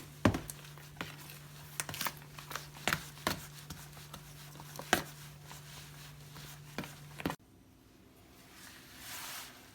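Homemade fenugreek paste is stirred by hand in a bowl, producing faint irregular scraping and tapping strokes over a low steady hum that stops abruptly near the end.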